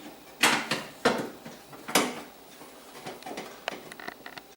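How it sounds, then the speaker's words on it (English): A gas oven burner is slid back into place inside the oven during an ignitor replacement, making a few close, quiet metallic clunks and scrapes, with softer rattles trailing off. "Now I'm going to push this wire back into the back of the access panel and then slide the burner in place"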